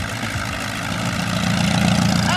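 A 4-cylinder 4.5-litre Vauxhall racing engine of about 60 horsepower runs steadily, a loud, close, continuous low throb that swells slightly toward the end, with no voices.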